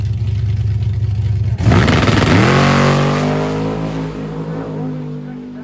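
A Dodge Durango Hellcat launches hard at a drag strip during a Sick Summer event, its supercharged engine roaring loud and close, then the revs climb and the sound fades as the SUV pulls away down the track.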